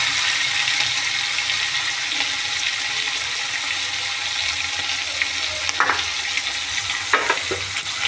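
Prawns frying in hot oil, a steady dense sizzle that runs the whole time, with a few brief scrapes and clicks as they are stirred.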